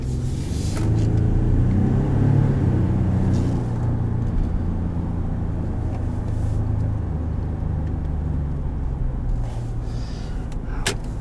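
Twin-turbo EcoBoost engine of a 2018 Ford F-150 Sport pulling under acceleration, heard from the cab as a steady low rumble and drone that stays fairly even throughout, with no talking.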